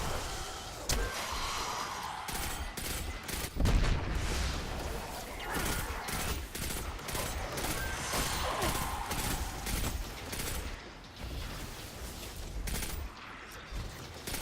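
Gunshots from an automatic rifle while shooting enemies in a first-person video game, repeated sharp cracks scattered through a busy battle mix with one heavier blast, and someone talking intermittently over it.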